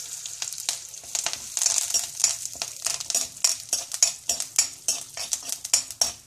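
Mustard seeds, fenugreek, lentils, cumin and dried chillies frying in hot oil for a kuzhambu, a close crackling sizzle with seeds popping in quick irregular bursts and a spoon scraping the pan.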